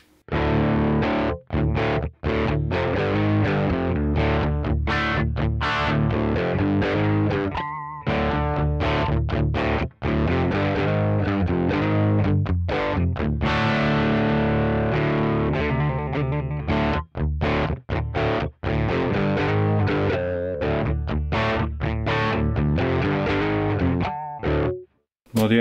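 A DSM Humboldt Simplifier pedal set to maximum gain at low volume gives a distorted electric guitar tone, with strummed chords and single notes played in steady bursts and brief pauses between phrases.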